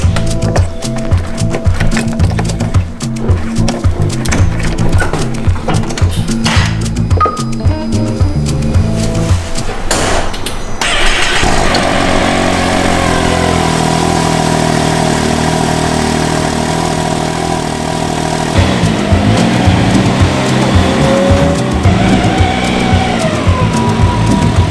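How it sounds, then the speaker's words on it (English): A 2018 Can-Am X3 XRS Max side-by-side engine on a cold start: cranking and catching, then a loud, close, steady idle that rises and settles, with no talk. "Here's a cold start up on a 2018 Can-Am X3 XRS Max."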